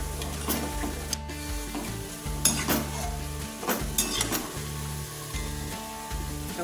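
Kofta frying in oil in a Gujarati-style kadai alongside bottle-gourd cooking, with steady sizzling, spoon stirring and pans clinking up close, broken by a few sharper scrapes.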